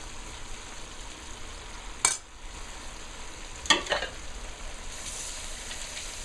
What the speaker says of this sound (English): So I'm throwing in the garlic now.